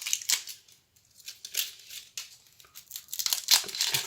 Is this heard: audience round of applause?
no